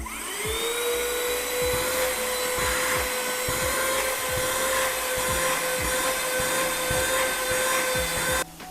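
A small handheld car vacuum cleaner whirs up to a steady high-pitched whine and runs continuously, loud and close, before cutting off at the end.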